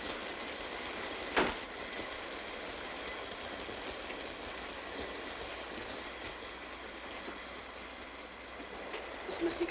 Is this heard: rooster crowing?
no